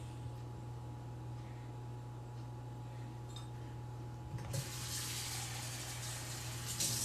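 Water poured in a quarter-cup measure into brownie batter for chocolate fudge brownies, a brief splashy rush starting midway over a steady low kitchen hum.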